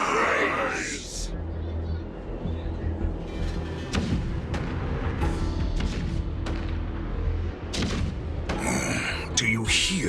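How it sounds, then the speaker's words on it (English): Cannon fire rumbling in the video game Honkai Star Rail, deep booming thuds and a low continuous rumble with sharp distant blasts, heard under a voice speaking. "Do you hear that? The rumble of the cannons."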